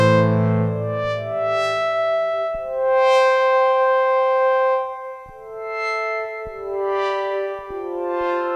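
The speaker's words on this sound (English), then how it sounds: "have a chamber reverb." A Behringer DeepMind 12 synthesizer plays a slow series of sustained tones through a chamber reverb, each note ringing out with a lingering, echoing tail that overlaps the next, loud and clear with no voices.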